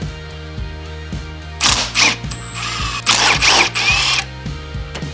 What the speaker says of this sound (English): Now I'll just undo these 4 and do it quick here.